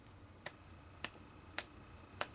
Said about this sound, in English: I can't snap my fingers.